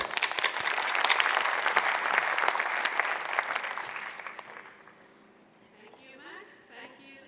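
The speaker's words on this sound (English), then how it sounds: "Please give a round of applause and welcome." An audience at a plenary session on precision health applauds to welcome a speaker, dense clapping that holds for about four seconds, thins out and fades as a voice begins talking.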